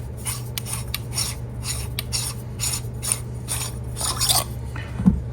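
The handle is unscrewed from a Scraptec neopixel lightsaber hilt, giving a close, rhythmic metallic rasping and grinding of threads turning, in repeated short strokes with a faint low hum beneath.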